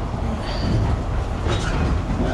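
A heritage tourist train pulls out of the station at Cripple Creek, Colorado, giving a steady close rumble of rolling wheels and car noise throughout, with faint higher squeaks on top.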